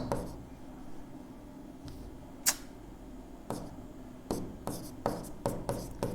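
Pen writing out a Class 11 physics vector numerical on paper, soft scratchy strokes in short bursts with a few sharper taps, close and fairly quiet, no voices.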